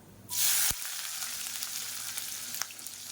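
Sliced onion and spices hitting hot oil for tomato kadappa: a sudden loud hiss as they drop in, then a steady crackling sizzle with a faint stir or two, no talking.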